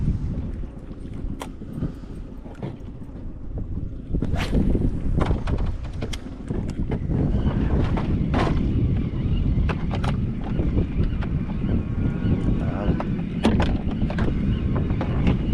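Steady wind buffeting the microphone on a fishing boat early in the morning, a loud continuous low rumble with occasional sharper gusts and knocks, no voices.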